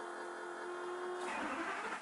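An RV engine, recently broken down, cranks briefly and catches, then settles into a steady running rumble with no one speaking.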